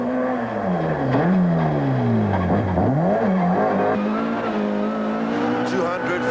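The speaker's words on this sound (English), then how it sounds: "The muddy roads had the car sliding and stalling as they battled for traction" A 1995 rally car engine revs and slides on muddy roads, the pitch rising and falling in repeated swoops as it battles for traction, loud and steady throughout with possible voices beneath.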